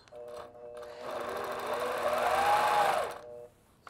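Longarm quilting machine stitching along a ruler, a fast, steady mechanical whir that ramps up, holds for about two seconds with a rising tone, then cuts off, close and alone.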